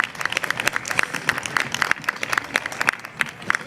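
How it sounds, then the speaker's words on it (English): Audience applause in a college theater after a drama performance, a dense run of rapid, crisp claps from a modest crowd, close and lively, briefly easing near the middle before continuing. "Give him a nice round of applause."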